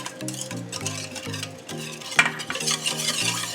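Bulla cake batter is stirred by hand as wet ingredients go into the dry. A bowl scrapes with a soft steady rhythm over lilting background music, close and with no talking.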